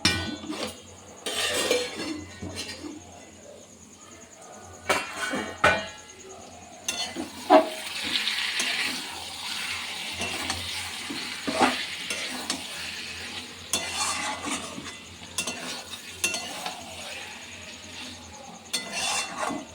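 Whole pointed gourds cooking into a spicy curry in a partly covered pan, with intermittent stirring scrapes and clanks against the pan over a low sizzle, plus a denser burst of frying noise midway.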